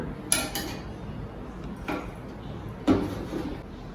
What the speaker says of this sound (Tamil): இப்போ இதை வந்து ஒரு பாட்டிலில் எடுத்துடலாம்